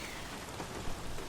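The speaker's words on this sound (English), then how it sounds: "and it is raining in Russia" Steady rain patters continuously in an F1 racing video game set at the Russian Grand Prix, a dense even hiss with no voices.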